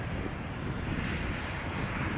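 An arriving airliner on a ten-year-old airframe in retro livery roars steadily at Amsterdam Schiphol, a low, dense engine rumble heard from a distance with some wind buffeting.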